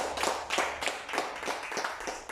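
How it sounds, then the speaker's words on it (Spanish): A church congregation clapping in steady rhythmic beats, about two claps per second, moderately loud and close, with little talk over it. "quisiera que le dé un fuerte aplauso al Señor en esta noche"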